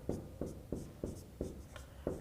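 Chalk or marker writing on a board during a profit-and-loss maths lesson, a steady run of about seven evenly spaced scratchy strokes, close and moderately loud with no talk.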